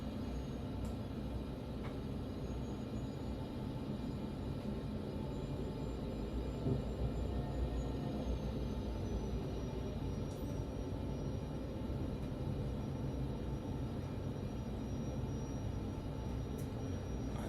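A Cessna Caravan's turboprop engine runs steadily on the runway in a flight simulator game, a constant low droning rumble with a faint high whine above it, unbroken and even throughout.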